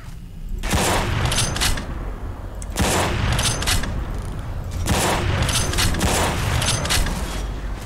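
Sniper rifle gunfire in a video game: three loud, heavy shots spaced about two seconds apart, each followed by a long reverberant tail and mechanical clatter.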